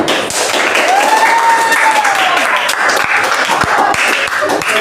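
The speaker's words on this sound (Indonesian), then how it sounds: "boleh tepuk tangan" Classroom applause from students during a lesson, dense clapping filling the room with some voices mixed in and a few louder thuds near the end.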